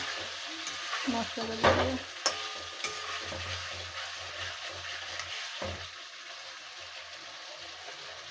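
Jackfruit being sautéed in a pan with spices, with a spatula scraping and stirring up close in a cluster of strokes early on. A soft, continuous sizzle runs beneath, and a voice speaks briefly.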